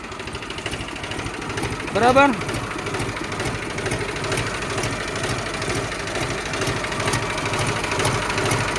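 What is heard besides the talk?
Mahindra tractor engine running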